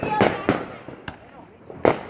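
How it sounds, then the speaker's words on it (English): A bundle of about thirty bottle rockets tied together bursting outdoors on the Fourth of July, four sharp cracks spread unevenly over two seconds, fairly close and loud. "There's like 30 bottle rockets tied together."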